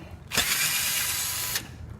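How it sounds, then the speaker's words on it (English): An old electric drill runs in a single short burst while backing screws out, a harsh whirring buzz about a second long with an abrupt start and stop, close and fairly quiet. "Then just take that old drill, take the screws out of it"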